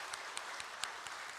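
Church congregation applauding during a Wednesday worship service, a faint steady wash of many hands clapping at a distance.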